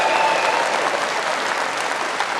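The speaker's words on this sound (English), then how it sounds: "Everyone clapping." Sustained audience applause fills the room, a dense, steady wash of many hands clapping at fairly loud level with no breaks.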